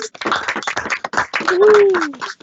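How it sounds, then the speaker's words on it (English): Council members in a virtual online meeting applaud with scattered, uneven claps coming through several microphones, while a voice speaks over them partway through. "Everybody else, unmute yourselves and let's give him a round of applause."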